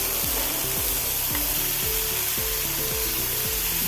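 Onions sautéing in hot oil for a dried shark fry make a steady, dense sizzle that runs throughout, with repeated rhythmic scraping from stirring and no talk.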